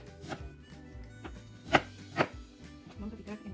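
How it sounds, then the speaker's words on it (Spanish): A knife chops onion on a cutting board in a home kitchen while Mexican calabacitas are made, giving a few quiet, irregular thuds with two sharper knocks in the middle. "Vamos a picar la cebolla también."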